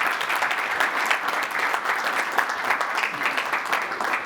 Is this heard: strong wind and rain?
no